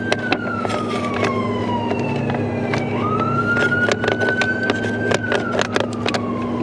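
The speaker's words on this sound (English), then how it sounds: "And there's the siren." Emergency vehicle siren wailing up and down in long sweeps at a distance, steady over a low engine hum from a Ford F350 diesel pickup, with scattered metallic clicks and taps from wrench work nearby.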